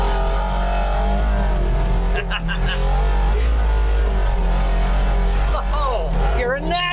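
A UTV engine revs with the pedal floored, a loud continuous engine roar with a heavy low rumble throughout, while people talk and shout over it.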